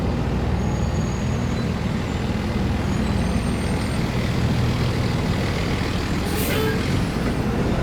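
A truck rumbles along a city street in Gowanus, Brooklyn, its loud, steady engine drone close by and continuous, with a brief high hiss like an air brake near the end.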